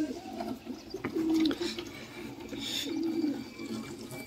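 Pigeons cooing softly while being fed grain, low murmuring coos rising in two drawn-out phrases against faint background rustle and trickling water, fairly close, with no talking.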